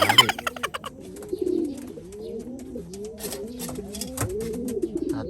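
Young racing pigeons coo in low, throaty, repeated calls at close range, layered over one another, after a few sharp clicks at the start.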